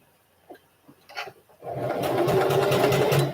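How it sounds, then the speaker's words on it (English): A domestic sewing machine runs a test seam on a piece of pyjama fabric, with a steady, fast mechanical whir that starts after a few soft handling clicks and holds loud and close to the end. "I'm going to do a test sew on the piece that keeps hitting the floor."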